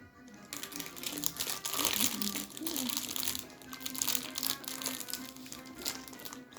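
Someone crinkles a snack package up close, crackling loudly in bursts for several seconds with a low hum underneath.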